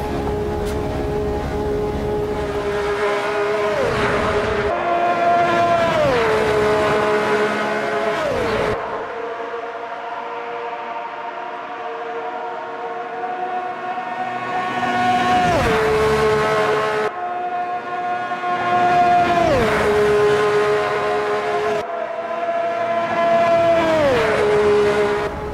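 A 1971 vintage race car in Automobilista 2 howls at full throttle around Monza, engine pitch rising through gears with sharp drops at each shift, loud and continuous across repeated acceleration runs.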